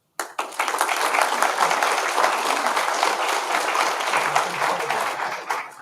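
Sustained applause from an audience at a civic announcement event honoring a mayor, a dense, steady wash of many hands clapping that starts abruptly and holds evenly with no talk.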